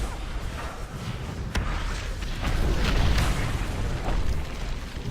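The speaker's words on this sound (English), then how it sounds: "It just nuked my cannons." Heavy booming explosions in World of Warcraft wipe out a player's cannons, dense rumbling blasts and crackling bursts layered over continuous game noise.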